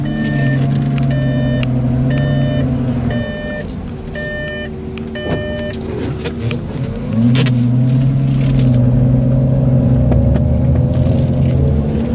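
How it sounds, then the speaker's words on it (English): A 2005 Lamborghini Gallardo, a repairable salvage car, idles in reverse with a deep, steady engine rumble. Regular high reversing-sensor beeps repeat over it, and the engine swells louder near the end. "Go ahead and put the car in reverse."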